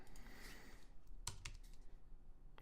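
Quiet keystrokes tap on a computer keyboard while a new budget amount is entered, a short scattered run of soft clicks with a couple of sharper taps near the middle.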